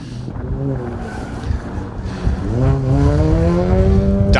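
A rally car driven hard on a forest stage at the Colin Ellmore Memorial Rally, its engine revving and rising in pitch through the gears as it accelerates, loud and close, with gravel and wind noise around it.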